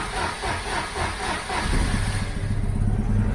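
A Citroën 2CV with the choke on cranks in a steady rhythmic churn, then catches and settles into a louder, fuller idle close by.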